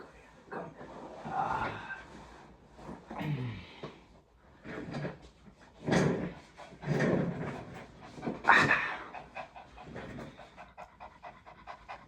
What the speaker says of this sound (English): My dog's breathing loud,